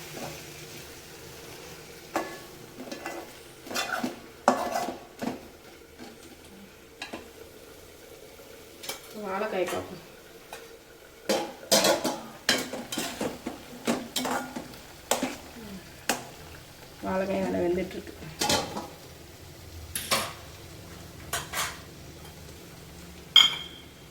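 Pumpkin pachadi being stirred in a pan, with scattered scraping and tapping of a spoon against the pan over a soft background sizzle, arriving in irregular bursts and close by.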